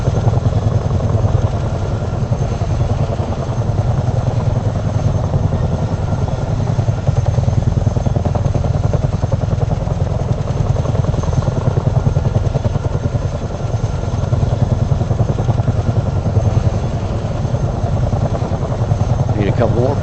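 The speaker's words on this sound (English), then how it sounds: "Who says these big choppers can't have fun?" A big military helicopter flies low up through a winding valley, its rotor and engine making a loud, continuous thumping roar that stays steady throughout, with voices talking over it.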